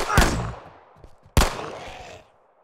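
Two loud, sharp gunshots from the video game Old Evil, each a sudden crack with a ringing, reverberant tail, fired about a second apart.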